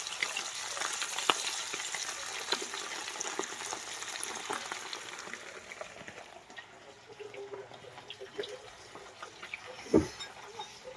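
Chicken pakoda pieces fry in hot oil with a continuous crackling sizzle at moderate loudness, scattered pops, and a single louder thump near the end.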